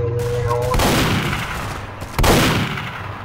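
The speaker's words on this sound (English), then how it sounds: "They're shooting at us." Gunfire in the Garry's Mod video game, with two sharp bursts of shots about a second and a half apart, each ringing out and decaying, loud and close.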